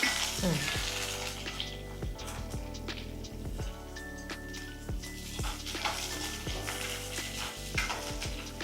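Green chillies, curry leaves and garlic fry in hot oil in a pan, giving a steady close sizzle with occasional metallic clinks and scrapes of stirring.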